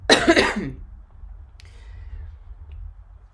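A single harsh cough bursts out close up, followed by a quiet stretch with low background rumble.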